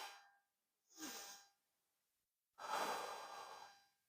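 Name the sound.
slow breathing during a yoga stretch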